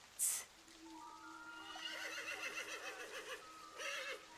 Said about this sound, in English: the horse could be getting a bit aggravated at this point